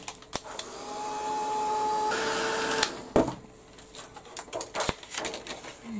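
A dryer blows steadily for about two and a half seconds over wet paint on a butterfly canvas, a close, even whoosh with a faint whine, then cuts off before a few light knocks and handling sounds.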